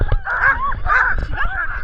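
Sled dogs in Tromsø, Norway, yip and whine excitedly at the start of a run, several loud close high-pitched cries in quick bursts.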